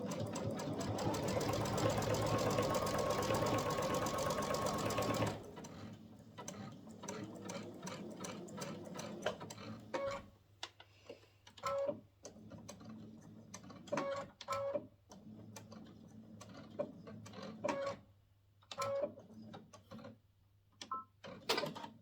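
A sewing machine stitches quilt binding on a Kimberbell Cup Of Cheer quilt, opening with a steady loud run of stitching, then breaking into short bursts and rhythmic ticking of the needle with pauses between.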